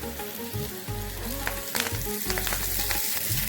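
Roasted eggplant, onion and garlic fry in oil in a pan for bharit. There is a loud, close, steady sizzle with repeated scraping and mashing knocks throughout, and no talk.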